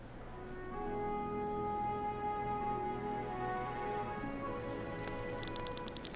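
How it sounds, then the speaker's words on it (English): Steady rainfall in the video game Chained Echoes patters throughout while a sustained musical drone with layered tones plays underneath, and light ticking sounds appear near the end. "And it's still raining."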